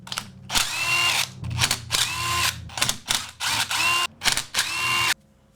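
A power driver with a T25 bit undoes the crankcase bolts on a Husqvarna 125B leaf blower. It makes about six close, loud whirring bursts with rising pitch, separated by brief pauses, and stops abruptly at the end.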